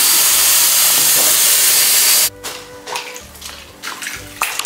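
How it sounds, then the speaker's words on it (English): A faucet gushes loudly and steadily while socks are hand washed, then shuts off abruptly, leaving quieter splashes, drips and clunks of handling in the basin. "I think I'm gonna have to go hand wash them."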